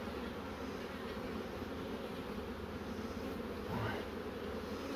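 Honey bees in an opened hive make a dense, steady buzz, many insects together clustered to keep the brood warm. The hum is even and continuous, fairly quiet and close, with no talking.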